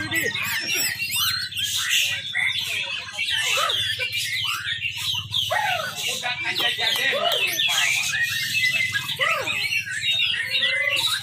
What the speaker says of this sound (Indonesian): Terus ada suara burung gereja.